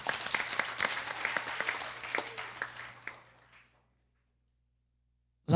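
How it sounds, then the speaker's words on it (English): Audience applause for the Devi at a Navratri gathering, a few seconds of scattered clapping that thins out and fades to silence. "Let's give a round of applause to our Devi,"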